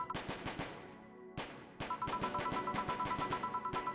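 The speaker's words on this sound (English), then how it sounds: "I see lights of flashes in the distance. Most likely gunshots." Gunfire in the video game VA-11 Hall-A crackles in rapid machine-gun bursts, sharp repeated shots with a brief pause between volleys and faint electronic tones under them, quiet overall.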